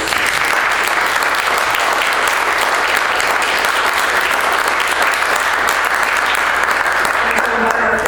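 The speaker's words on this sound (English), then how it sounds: "I again want to ask you to give a round of applause to my colleagues." An audience gives colleagues a sustained round of applause at a talk, dense steady clapping filling the room at an even loudness throughout, with a faint murmur of voices underneath.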